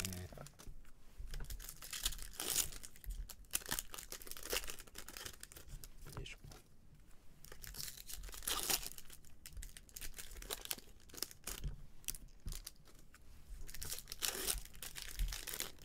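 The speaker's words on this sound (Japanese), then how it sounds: "ちょっとなんかパリパリパックで" A crinkly plastic foil pack of Game of Thrones trading cards being torn open by hand, with quiet crackling, crumpling and tearing in irregular bursts, close and fairly soft.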